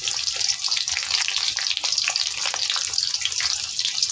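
Chopped garlic and onion frying in white oil with a little ghee for fried rice, giving a steady, close crackling sizzle that runs unbroken with no talk.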